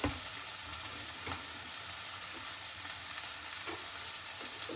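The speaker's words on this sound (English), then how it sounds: "sauteing a little bit over here too" Spinach sautés in a pan, a soft continuous sizzle and crackle heard close and fairly quiet, with a few light clicks of stirring.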